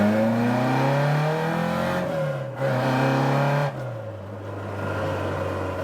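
A Ford Escort Mk2 engine revs and pulls away up close, its note rising and falling through several loud surges as the car drives off, with no talk.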